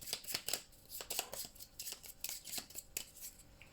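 A deck of cards is riffled and bridged during a Cartographers board game session, giving a run of quick, crisp fluttering bursts at close range with no talking.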